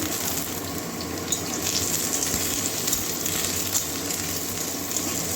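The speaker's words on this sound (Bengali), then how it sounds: "ভাজা হয়ে গেছে এবারে আলুটা দিয়ে দিচ্ছি" Potatoes fry with onions in a pan, giving a steady, moderately loud sizzling hiss with a few small pops and no talking.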